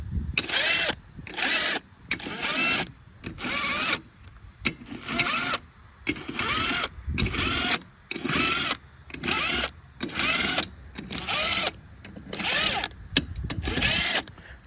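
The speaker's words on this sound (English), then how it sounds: "We got an impact, so I put it on this lower setting just to get them going." An impact wrench on a low setting runs lug nuts onto the wheel of a 2024 Can-Am Renegade XMR 1000R, firing in a dozen or so loud, close bursts of rattling hammering, each about half a second long, separated by short pauses.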